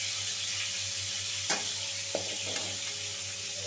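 Cauliflower florets sizzle in a pan of hot oil over a low flame, a steady close frying hiss broken by a few sharp scrapes and knocks of stirring, with no voices.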